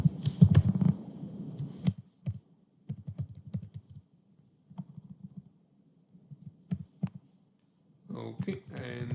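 Someone types on a computer keyboard in scattered bursts of close, crisp key clicks separated by short silences, with a voice speaking at the start and end.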